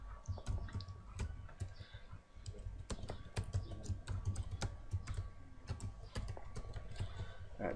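Rapid, irregular clicks of a computer keyboard being typed on at close range, a steady run of light key taps with no speech over them.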